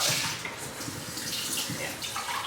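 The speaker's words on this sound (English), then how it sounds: "I'm adding cold water." Cold water runs from a kitchen tap into a pan for pork chop gravy, a steady, close splashing rush with no talking over it.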